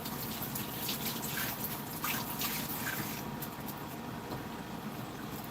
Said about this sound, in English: Let me rinse my hands off one more time